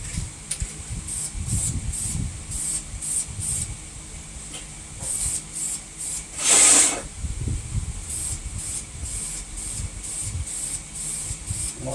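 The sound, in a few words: spray painting Ford 302 engine block with two-stage paint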